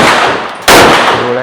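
Gunfire at close range from a gun being fired in Vietnam: a sudden, loud, broadband blast that cuts in partway through and rings on with a sustained roar, like a burst or a heavy shot in an open range setting.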